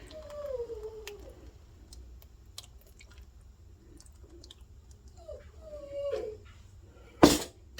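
A dog behind a dog gate in a home kitchen whimpers in high, drawn-out whines, two main cries separated by quiet, with faint clicks and a sudden loud clatter near the end.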